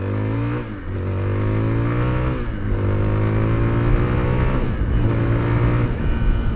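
A Zontes 350T ADV motorcycle engine revs while riding, climbing in pitch through each gear before dropping at short-shifted changes, loud and close with a throaty mid-range drone.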